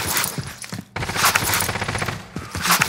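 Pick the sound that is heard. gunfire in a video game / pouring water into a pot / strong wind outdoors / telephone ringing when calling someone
gunfire in a video game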